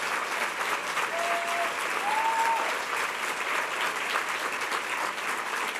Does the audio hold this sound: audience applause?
yes